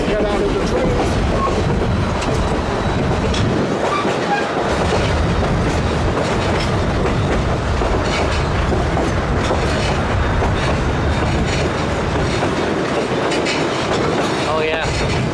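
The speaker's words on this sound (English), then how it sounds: "The movement of the train ride." A passenger train rolls through the Skagway area of Alaska, with constant loud rumble and rhythmic clickety-clack of wheels on rail joints close by throughout. Voices talk faintly beneath it.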